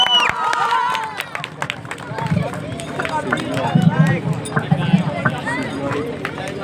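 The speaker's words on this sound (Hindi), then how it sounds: "जोरदार ताली हो जाए इनके लिए" Crowd applause at a nursery school prize ceremony for a top-ranked student, clapping mixed with babble and a voice talking over it, moderately loud and steady.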